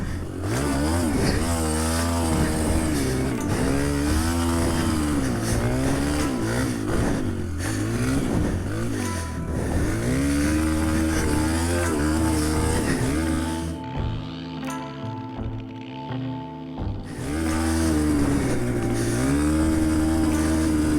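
A cheap dirt bike engine revving hard while being ridden, loud and close, its pitch climbing and dropping through gear changes with a brief easing off near the end.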